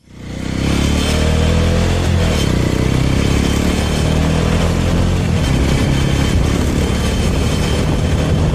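A small motorcycle rides along a road in Sulawesi, Indonesia: its engine starts up and settles into a loud, steady drone with wind rush and some rattly clatter, close by and continuous, with no voices.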